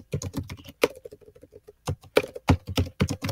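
A computer keyboard is typed on in a rapid, uneven run of close, crisp key clicks with brief pauses between bursts.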